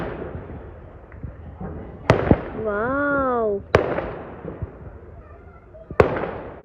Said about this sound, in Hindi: देखिए कितने प्यारे प्यारे पटाखे चलाए जा रहे हैं, आसमान में रौनक लगी हुई है।